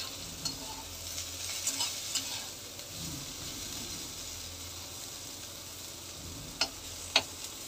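Bitter gourd being stirred as it fries in a pan, a low steady sizzle with a few soft scraping touches of the utensil and sharper clinks near the end.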